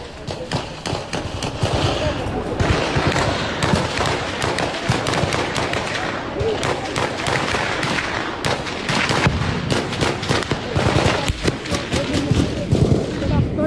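Gunfire during an encounter with militants hiding in a forest area of Doda, a dense stretch of rapid crackling shots and bursts heard continuously alongside a reporter's voice.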